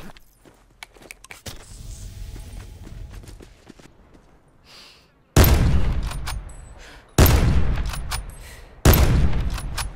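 Gunshots in the Call of Duty Blackout video game, faint distant pops and ticks and then three loud, close booming shots spaced a couple of seconds apart.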